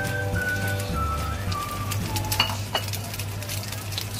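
Ghee sizzles and crackles in a pan around a slice of egg-soaked bread, a soft continuous patter like light rain with a few sharper pops and a low steady hum beneath.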